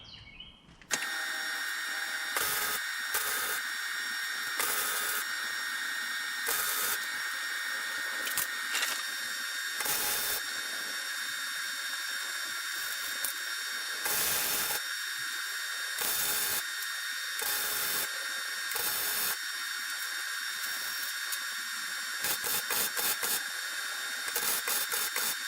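Tack welding a metal frame for a marching band synthesizer cart gives a steady close crackling buzz, broken into a series of short welds of uneven length with brief pauses between them.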